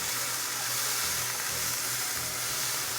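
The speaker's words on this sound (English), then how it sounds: "I'm sauteing the onions with the peppers." Onions and peppers sizzle steadily in a hot pan while sauteing, an even, soft crackling hiss with no talking.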